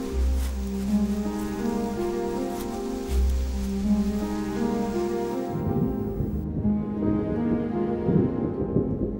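Rain falling steadily in Tasmania, a broad constant wash of drops with a low rumbling undertone, fairly loud and continuous throughout with no voices.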